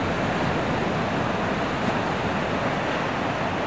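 Atlantic Ocean surf roars steadily on a beach near New York, mixed with heavy wind buffeting the microphone, a continuous loud wash with no talk.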